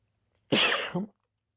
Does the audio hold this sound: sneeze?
yes